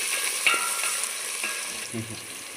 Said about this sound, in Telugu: ఇది ఉల్లిపాయ వేస్తున్నాను పచ్చిమిర్చి కూడా వేసానండి